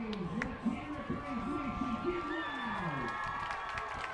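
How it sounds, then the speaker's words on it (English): Crowd at a Williamstown vs. Kingsway high school football game cheering and shouting, a broad, steady roar heard under a commentator talking throughout. "Crowd getting into it."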